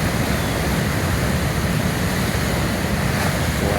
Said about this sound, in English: Lapping up right here next to us up the rock